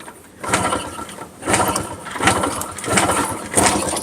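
A Yamaha RXZ motorcycle from 1996, long unused, runs with an uneven, surging engine note that swells in repeated bursts about once a second, with mechanical rattling underneath, close and fairly loud, no voices.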